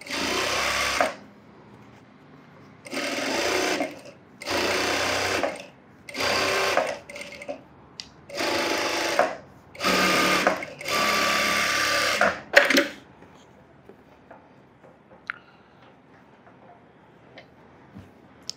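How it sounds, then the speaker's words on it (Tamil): Sewing machine stitching the edge of the lining on an umbrella frock, running in about eight short rapid bursts with brief pauses between them, then stopping, followed by faint handling noises. "இந்த லைனிங் எடுத்து விட்டுட்டு நான் எட்ஜ் தையல் போடுறேன்."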